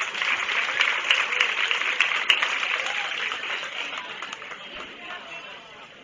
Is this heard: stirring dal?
no